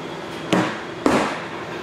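Two close, sharp whacks of a rubber mallet against the intake manifold of a Chevrolet 454 big block engine, about half a second apart, with no talking.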